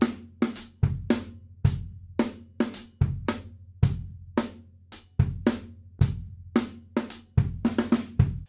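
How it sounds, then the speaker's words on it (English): A drum kit plays a steady beat, punchy bass kicks and crisp snare and cymbal hits repeating in a regular pattern, close and loud with no voices. "Watch me, I play the drums."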